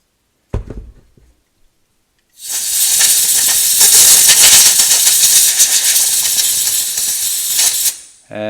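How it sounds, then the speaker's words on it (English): Canned compressed air blasts through the flint tube of an old RU-LITE combination measuring tape and lighter, a loud steady hiss of about five and a half seconds after a brief click, with no talking. "Take some canned air"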